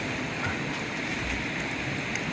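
A creek flows steadily in rugged woodland terrain, a constant broadband watery rush that stays even and unbroken throughout, with no voices over it.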